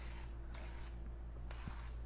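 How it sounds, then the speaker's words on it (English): Rinseless wash solution is sprayed onto a car bumper in short, close pumps from a trigger bottle, with three crisp hissing bursts separated by brief pauses. "Normally I'll just spray the whole bumper and wipe it all in one go."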